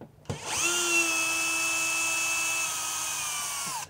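A power drill backs temporary screws out of a drywall wall: one steady whine that starts abruptly, holds an even pitch for about three seconds, then winds down, close and alone.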